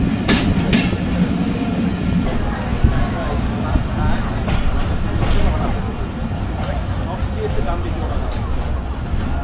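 Kanchan Commuter train pulls into Manmathapur station after leaving Parbatipur, a loud close rumble with rhythmic clickety-clack of wheels on rails running throughout, while passengers chatter in the background.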